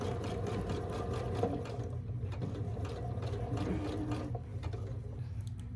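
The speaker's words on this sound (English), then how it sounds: "slide it under the presser foot. And I'm going to use that same wide zigzag stitch" A home sewing machine runs continuously, stitching a wide zigzag across folded elastic at a wrap neckline, its steady mechanical whir and needle clatter close and even with no talking.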